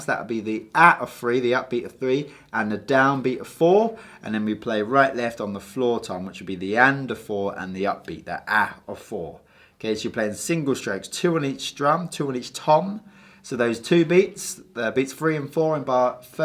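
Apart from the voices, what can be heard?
None of the usual background noises is heard.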